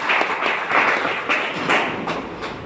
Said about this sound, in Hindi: सर के लिए एक जोरदार तालियां होनी चाहिए।